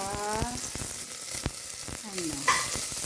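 Chopped garlic dropped into hot olive oil sizzles and crackles steadily up close, with a few utensil scrapes and stirs over the frying.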